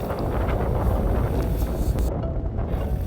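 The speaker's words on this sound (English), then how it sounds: "And do you hear the force of that wind?" Strong, steady wind roars across the microphone outdoors in Reykjavik, Iceland, a continuous loud rumbling buffet with no talking.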